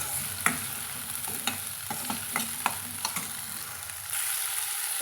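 Onion and wonderberries frying in oil, with a steady sizzle and a series of sharp scraping stirs against the pan, close and clear, without any voices.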